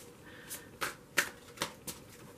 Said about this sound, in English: I'm going to go ahead and shuffle these cards.